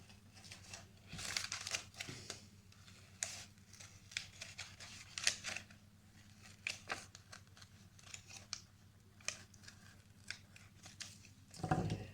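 Dressmaker's pinking shears snip repeatedly around a paper circle, a series of faint, irregular crisp cuts with brief pauses between them, close up and quiet.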